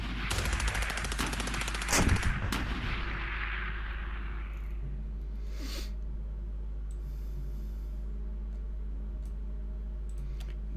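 In the Klotzen! Panzer Battles strategy game, a burst of rapid gunfire and sharp artillery blasts fills the first few seconds, then fades into a low steady hum with faint scattered ticks and distant thuds.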